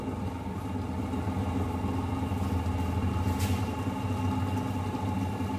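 A steady mechanical hum from a lab gyroscope rotor (diameter 300) held spinning at about 1700 RPM, continuous and even, with a constant low drone throughout and no talking.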